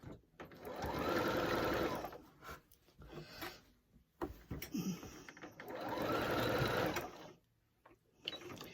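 A Singer 8500Q sewing machine circle-quilting a small baby quilt runs in two long, close bursts of fast rhythmic stitching, separated by brief pauses with soft fabric shuffling and handling noises.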